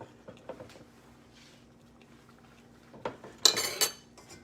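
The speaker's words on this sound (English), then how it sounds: "I'm just going to mix that up until the butter is melted" Raisin pie filling with butter stirred in a bowl, quiet scattered spoon taps, then a louder burst of scraping and clinking near the end.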